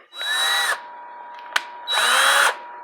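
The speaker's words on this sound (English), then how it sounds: "Now I should be able to drill some longer screws, some 2-inch screws in without much difficulty." A power drill drives 2-inch screws into aspen wood to mount a bowl blank, two loud whirring runs close up separated by a pause and a sharp click; no speech.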